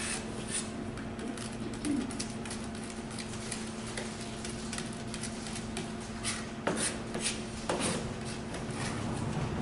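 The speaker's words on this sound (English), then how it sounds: "you can take some salt, put it right on top, and then just work your knife on it like this" A knife blade working minced garlic and salt into a paste on a cutting board, giving a steady gritty rasping scrape with a couple of sharper knocks partway through, close by and alone.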